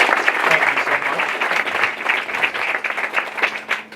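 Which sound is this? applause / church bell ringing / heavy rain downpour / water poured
applause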